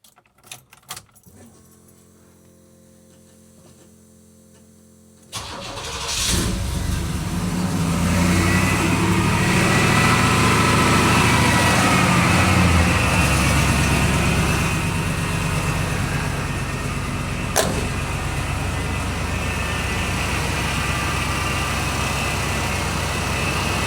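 Chevrolet K5 Blazer engine cranks and catches after a few quiet seconds, then settles into a loud, steady warm-up idle with a brief sharp clatter partway through.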